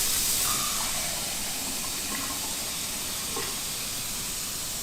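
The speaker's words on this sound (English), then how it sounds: "fill it up by hand" Cool water pours by hand into an ear wax removal machine's reservoir, making a steady rushing, hissing flow that holds at a fairly even level from start to finish.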